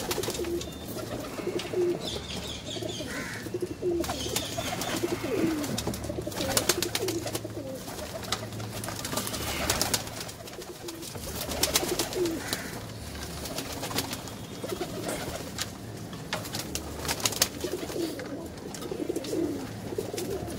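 Pigeons coo repeatedly while feeding on roti, soft throaty calls recurring throughout over light outdoor background noise, close by.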